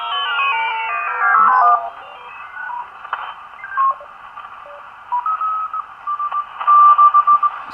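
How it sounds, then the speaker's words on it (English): A PSK digital-mode signal is tuned in on a Simpleceiver Plus superheterodyne ham receiver near the CW part of the band, heard as sweeping tones that settle into steady warbling beeps and short pulsed bursts, loud and clear. "I'm now tuning back down into the CW part of the band. Here's the PSK coming up."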